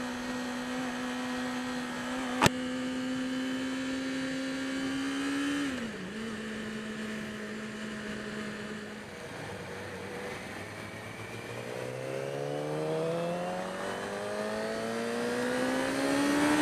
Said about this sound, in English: the sound of a 600 is so much better